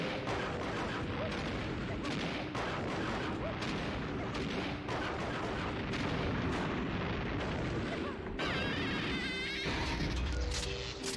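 Rapid bursts of gunfire and booming blasts during a Donkey Kong 64 randomizer boss fight, dense and loud throughout with no pauses, a brief electronic warble near the end.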